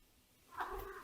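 A pet cat named Mel gives a short, fairly close meow-like call that swells in the second half of a brief quiet moment, with no talking over it.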